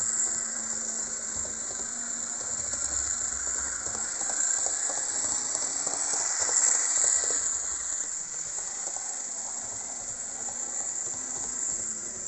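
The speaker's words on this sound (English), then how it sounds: "The Freelance railcar is free to roam the tracks." A model railcar with a Juef motor running along the track on its first test run gives a steady, close mechanical whir with a high ticking, ratcheting texture and a continuous hiss, swelling slightly midway and then holding level, with no talk.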